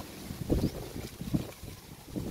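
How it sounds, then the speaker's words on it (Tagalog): Strong wind buffets the microphone in heavy, rumbling gusts that swell and fade, in Bacolod City, Negros Occidental, with no voices present. "Malakas itong hangin guys sa amin oh."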